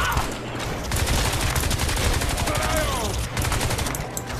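Sustained heavy automatic gunfire in the shooter Crysis 2 during a battle against aliens: a loud, continuous clatter of shots with brief breaks, layered with other game effects and voices.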